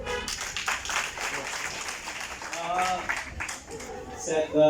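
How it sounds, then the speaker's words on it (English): Supporters in the audience at a youth dance competition final clap for the performers, a scattered, uneven patter of hands with voices mixed in that swells and dips before rising again at the end. "Clap for them."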